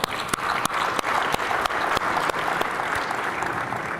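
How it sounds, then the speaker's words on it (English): An audience at an automotive industry panel in San Antonio applauds the panelists, a dense, even crowd clapping with a few louder individual claps standing out near the microphone. "So please give them a round of applause."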